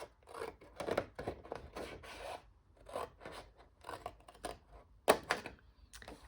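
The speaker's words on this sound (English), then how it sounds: "we're going to also cut that right up to that 4-inch score line" Scissors cutting through 12x12 craft paper along a 4-inch score line, giving repeated close, rasping snips and paper rustles in irregular bursts.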